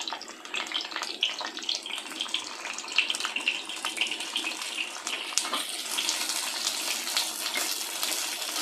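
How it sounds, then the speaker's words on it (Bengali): Potato pieces frying in oil left over from frying onions, a steady close hiss and sizzle that runs without a break, with no speech. "এখন আলুগুলোকে বেরেস্তার তেলে ভেজে নেব।"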